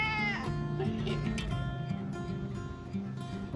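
A Thai street kitten meows at a door, with one drawn-out meow near the start over steady, loud background music and other sounds.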